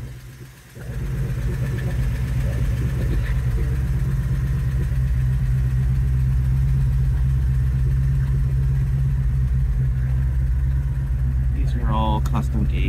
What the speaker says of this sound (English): It's got headers too, Flowmaster exhaust.